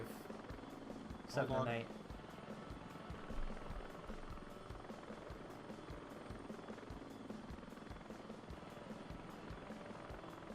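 A transport helicopter in a combat video game gives a steady rotor thrum with rhythmic chopping pulses, heard faintly under a player's voice on radio chatter.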